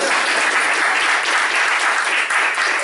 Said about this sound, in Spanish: pueden aplaudir